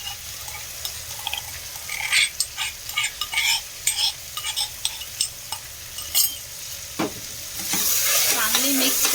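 Ginger-garlic paste being stirred and sautéed in a pan for a home-style veg pulao, with steady sizzling broken by repeated scrapes and clinks of a spoon against the metal, close and fairly quiet.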